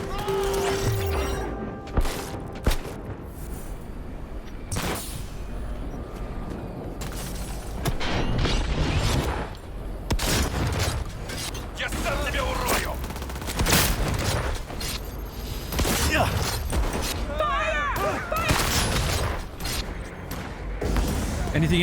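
Gunfire from the video game Cyberpunk 2077, bursts and booming shots scattered across the scene amid mechanical clatter, loud and close with people talking over it.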